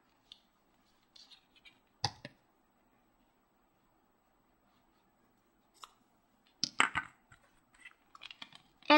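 Scissors snipping yarn to trim a handmade yarn flower, with a single crisp cut followed by a cluster of quick close snips and small handling clicks in an otherwise quiet room.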